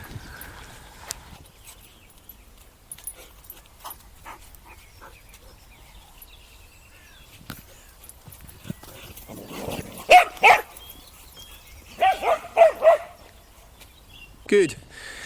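Dogs bark outdoors in a quiet, shady spot, a few loud separate barks and short bursts arriving in the second half over faint background hiss.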